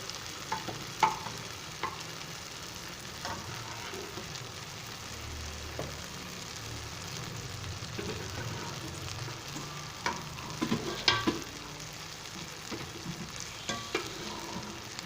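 Cumin seeds tempering in hot oil in a pan for a chana and black urad dal dish, giving a soft, steady sizzle with occasional light clinks of stirring, fairly quiet and close, with no voices.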